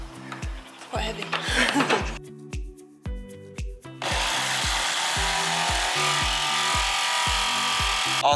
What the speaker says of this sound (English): has arrived with the jigsaw